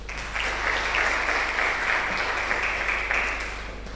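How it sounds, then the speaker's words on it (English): An audience at an artificial intelligence in healthcare event gives a round of applause, with dense, even clapping that holds steady for about four seconds before easing slightly. "Now, please a round of applause for him."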